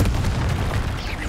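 A Confringo blasting spell explodes in the Hogwarts Legacy video game, a dense, rumbling low boom that fills the short moment without a clear break.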